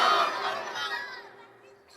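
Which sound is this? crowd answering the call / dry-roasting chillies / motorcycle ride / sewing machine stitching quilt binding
crowd answering the call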